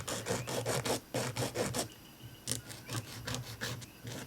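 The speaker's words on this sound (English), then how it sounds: "And then I'm gonna be filing them" A nail file rasps across fingernails in quick, steady back-and-forth strokes, a pause, then another run of close, crisp filing strokes.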